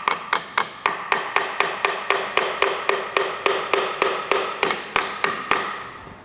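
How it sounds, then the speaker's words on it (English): Rapid, evenly spaced metallic taps drive a Piaggio BV400 scooter drive part onto its splines during a 12K service, about twenty sharp close hits in a steady rhythm with no talk. "So you gotta key that with the splines. Give it a couple little taps."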